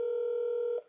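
A telephone gives a single steady electronic ring tone, held for under a second before cutting off abruptly, close and clear, with no talking.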